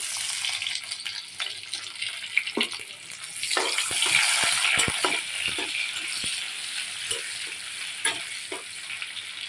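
Onion frying in a pan with boiled chickpeas and potatoes, a continuous bright sizzle with scattered stirring scrapes and clinks, close and moderately loud, without talk.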